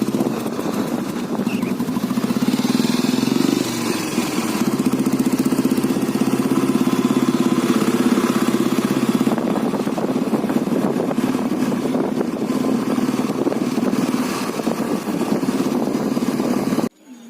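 An old Royal Enfield Bullet motorcycle engine runs continuously, a close, steady low thumping drone with some wind noise on the microphone, holding for about seventeen seconds before cutting off abruptly.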